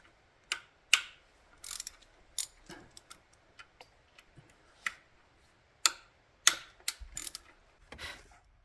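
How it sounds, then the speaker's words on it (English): A hand ratchet loosens 10mm bolts on the 2.4 L engine of a Chevy Equinox, giving sharp, close metallic clicks in irregular short runs separated by brief pauses, with no talk. "Now these are 10mm bolts. So I'm going to crack each one loose"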